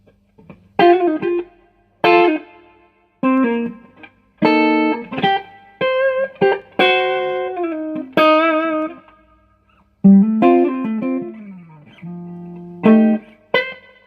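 Electric guitar playing single notes and short phrases through a repaired 5-watt Hayden Mighty Mofo tube amplifier, each note trailing off in a spacious reverb tail.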